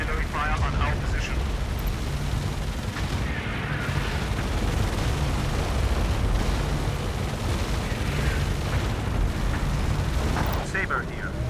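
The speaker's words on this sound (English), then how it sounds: "Artillery fire on our position." Artillery fire in the EndWar video game, with booming explosions rumbling continuously under dense battle noise and a few sharper blasts, while voices speak over the bombardment.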